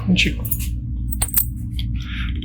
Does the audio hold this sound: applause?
no